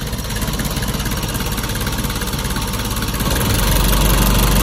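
A car engine idles steadily after a brake booster reinstall, a close, loud, even rumble with a faint rhythmic pulse that deepens and grows slightly heavier near the end.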